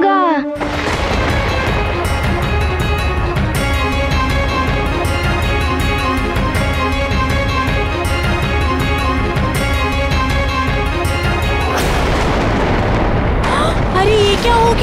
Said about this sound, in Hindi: अरे ये क्या हो गया, ये तो और विस्फोट हो गया